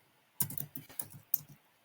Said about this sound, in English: I'm typing a name of the restaurant